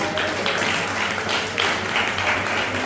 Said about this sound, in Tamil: கைத்தட்டி ஆண்டவருக்கு.